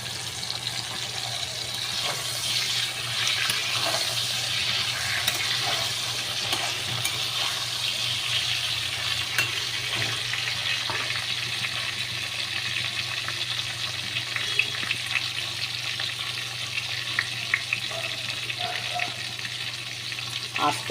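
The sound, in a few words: eggplant frying in pan for katla fish curry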